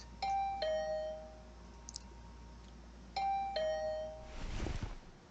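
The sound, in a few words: doorbell ringing repeatedly in video game The Hundred Line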